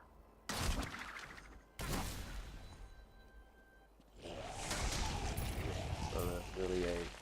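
Explosions and gunfire-like bursts from the action game Diablo 3, with two sharp loud onsets early and a denser, sustained blast-and-debris rumble later, over game sound effects and some talking.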